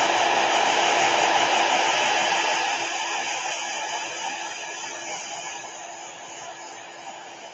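Hair dryer blowing on a watercolor painting of poppies, a loud, steady airy roar with a faint whine, close by and continuous, easing slightly in level partway through.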